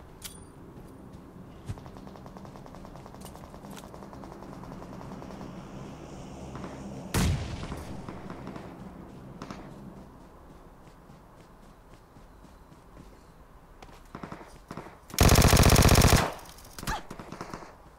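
Video game gunfire in a mobile shooter played on an iPhone 8 Plus: a sharp single shot early on, scattered softer shots and footsteps, then a loud, dense burst of automatic fire near the end, with no talk over it.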